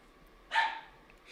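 A dog gives a single sharp bark at moderate distance, standing out briefly against a quiet room.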